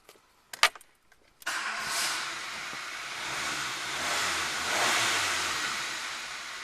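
A Renault Clio engine cranks in a few short bursts, then catches and runs with a steady, fairly loud idle after its crank sensor was cleaned. The starter whirs briefly before the engine settles into an even running hum.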